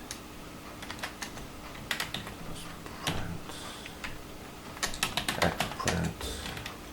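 Keys clatter on a computer keyboard as a Raspberry Pi command is typed, irregular bursts of close, crisp clicks with short pauses between runs and a low steady hum beneath.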